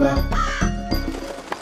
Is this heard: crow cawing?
yes